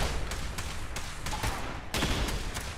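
Rapid rifle fire in the video game Fallout 76, a dense series of sharp shots over a loud continuous background.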